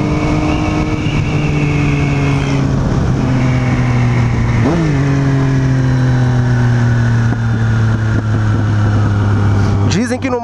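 A motorcycle engine roars through a wheelie with a passenger riding pillion, loud and close, its pitch rising then sliding steadily lower, with a sharp blip midway and a quick rev at the end.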